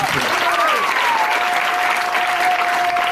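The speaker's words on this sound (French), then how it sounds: "Acclamez le Seigneur pour cela." A church congregation applauding during a French-language Sunday service, steady dense clapping throughout with a voice speaking over it.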